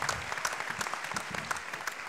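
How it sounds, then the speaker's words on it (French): A roundtable conference audience claps steadily, a moderate spread of individual hand claps blending into applause from a hall. "j'aimerais juste qu'on applaudisse en fait Madame Belloir"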